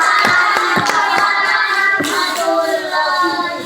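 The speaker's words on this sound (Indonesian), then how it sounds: "Ya, tepuk tangan." A small group claps after a class group presentation, a few distinct hand claps at first merging into a short, close round of applause that tapers off.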